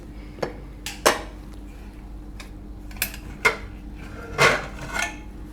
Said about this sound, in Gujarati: તો કુકર આપણે હવે ઉતારી લેવું અને ખોલીને જોઈ લઈએ